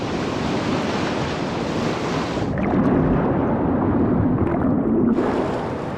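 Rough ocean surf off South Africa roars loudly and continuously, with waves crashing and churning close by, the rumble swelling heavier midway before easing back.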